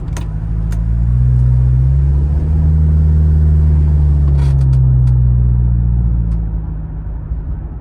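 Heard from inside a moving car with the front windows rolled up, a stock exhaust gives a loud, deep droning rumble that swells as the car accelerates, holds steady, then eases off, with a few light clicks partway through.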